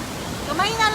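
Rushing flood water in Digos City, a dense broadband roar of flowing water with voices talking over it that grow louder toward the end.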